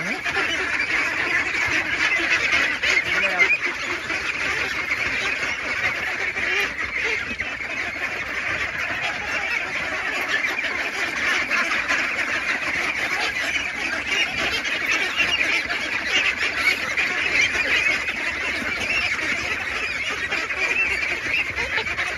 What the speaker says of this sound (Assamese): এইটো আমাৰ একদম লোকেল পাতিহাঁহ